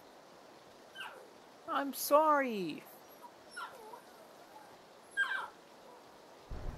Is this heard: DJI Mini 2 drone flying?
no